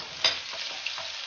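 Scallion, ginger and small chilies stir-fry briefly in a little hot oil, making a dense close sizzle with a couple of sharper crackles.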